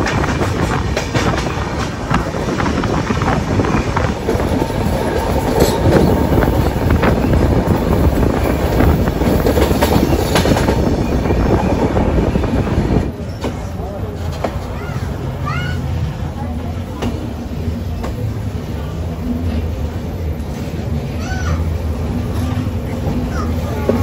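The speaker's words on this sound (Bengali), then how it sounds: "ট্রেন কিন্তু ফাইনালি এসে পৌঁছালো ছোট্ট একটা পাহাড়ি স্টেশনে।" Passenger train on the Vizag to Araku hill line rumbling steadily with wind noise from the open window, loud at first and then easing to a quieter clatter partway through, with voices in the background.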